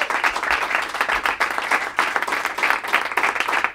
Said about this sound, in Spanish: quiero pedir otro aplauso fuerte